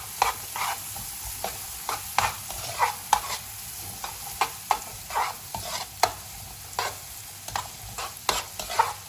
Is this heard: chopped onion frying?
yes